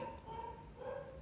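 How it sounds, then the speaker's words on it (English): A dog barks faintly in the background indoors, a short muffled yelp or two, quiet and distant. "that is my dog barking"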